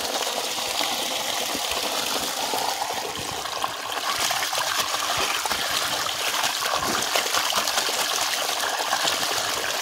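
Water gushes steadily out of a borewell pipe on farmland in a constant splashing rush, close by and unbroken throughout.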